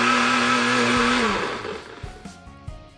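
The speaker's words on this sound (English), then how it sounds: "Six seconds of blender noise." Blender noise meant as a video game sound effect: a loud steady motor whine that winds down over a second or two, then falls to a rough, sputtering rattle, with no voices.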